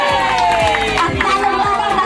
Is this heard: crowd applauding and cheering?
yes